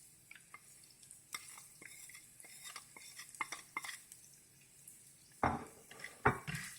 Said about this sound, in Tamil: அதையும் கிளறி விட்டுக்கணும்.